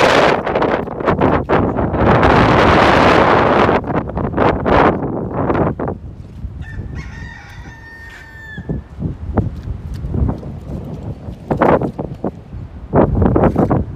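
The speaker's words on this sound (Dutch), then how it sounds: "Het waait hard, maar het is niet koud." Strong wind gusts buffet the microphone outdoors in loud, roaring bursts, easing briefly in the middle while a faint bird call sounds, then returning in sharp blasts.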